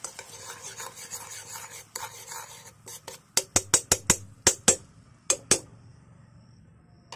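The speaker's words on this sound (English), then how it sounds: "it's frying" A utensil scrapes and taps against a pan in a quick series of sharp clacks, over a faint sizzle in the background.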